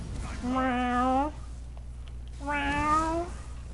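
Two cat meows from the video game Elder Scrolls Online, each about a second long with a rising pitch, separated by a short pause over faint background hum.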